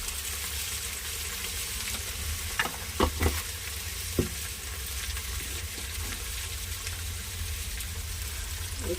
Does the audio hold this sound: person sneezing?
no